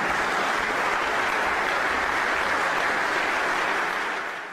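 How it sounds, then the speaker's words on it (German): A crowd at an AfD election campaign rally in Viernheim breaks into loud, sustained applause, a dense steady roar of clapping that holds for several seconds before easing slightly at the end. "In Viernheim bekam Weidel für diese Worte lauten Beifall"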